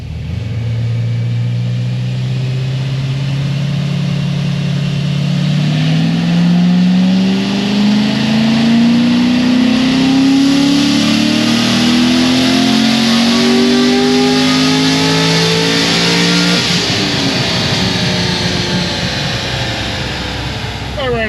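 On a dyno, a procharged Chevy SS engine pulls through a long wide-open run, its loud roar rising steadily in pitch for most of the clip before the throttle lifts and the sound falls away.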